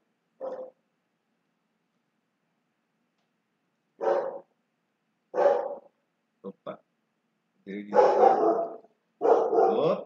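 A dog barks in short bursts: one bark, then a pause, then several more spaced barks and a quick double yip, growing louder toward the end, with a brief spoken exclamation among them.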